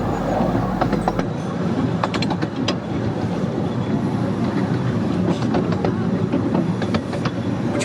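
A train on the Ravenglass & Eskdale Railway rolls into Dalegarth terminus with rhythmic clicks and rattles from the wheels over a continuous rumbling background, sounding close and steady.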